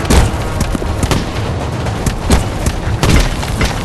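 Tank cannon fire blasting rocks in a WW2 tank racing game on Android, a series of heavy booming shots and thuds landing every second or so, loud and close over a dense rumbling background.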